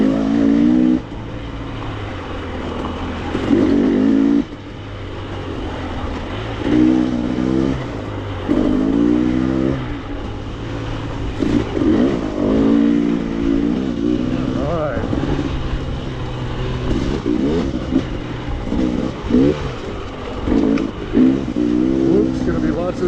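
Dirt bike engine on a Colorado enduro trail, revving and falling repeatedly as the throttle opens and closes, loud and close throughout the ride.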